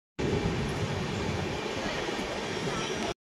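A passenger train pulls in at Dantan station with a steady, heavy rumble of wheels and carriage noise. The rumble stays close and constant, then ends abruptly.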